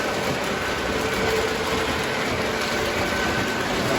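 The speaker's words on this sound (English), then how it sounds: "There comes the train." Model train passing on a layout, a steady, dense rolling hum and rattle that stays even and close for the whole stretch with no talk.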